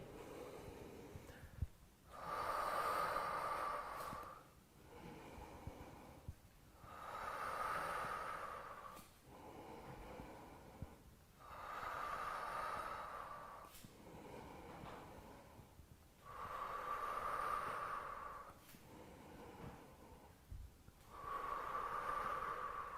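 Loud, rhythmic heavy breathing during a thigh and glute workout, with long hissing breaths repeating roughly every four seconds, each swelling and fading, close to the ear and with no talk over them.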